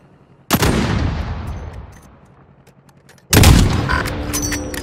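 Loud gunfire in a military video game: one sharp blast with a long decaying rumble, then a second heavy burst of shots near the end, with no talk.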